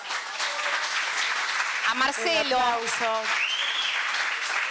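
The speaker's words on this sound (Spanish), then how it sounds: "El aplauso sostenido para esta lindísima exposición" Audience applause fills a bookstore's 40th anniversary celebration, a steady, dense clatter of many hands that lasts throughout while a voice speaks over it in the middle.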